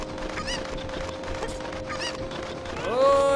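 Cucco chickens in the video game Zelda Ocarina of Time cluck in repeated short squawky bursts over steady game music, ending with a rising chime.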